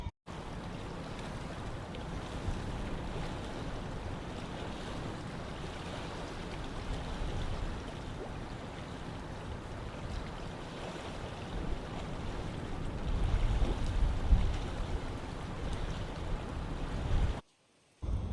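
Rushing water at Deojharan waterfall pours as a steady, dense roar that holds nearly constant for the whole stretch, swelling slightly near the end before cutting off, with no voices.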